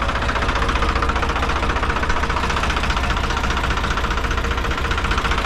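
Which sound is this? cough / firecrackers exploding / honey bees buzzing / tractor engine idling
tractor engine idling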